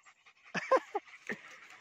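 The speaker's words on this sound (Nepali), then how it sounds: "पुरा थक्यो न सेसे गर्छ" A dog worn out after a snake attack pants in a few short, breathy bursts with a slight whimper, close by, with quiet gaps between breaths.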